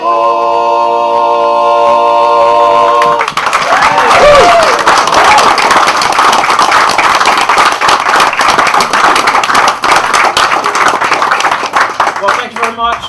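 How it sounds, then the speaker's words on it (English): Loud, close audience applause after a live song at a charity dinner at a Bromley restaurant, with a band chord ringing out first, then dense clapping sustained to the end with some voices underneath. "Much for that generous applause"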